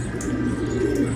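Pigeons cooing at a nest with chicks, a low soft continuous coo that is close and fairly loud, with no talking.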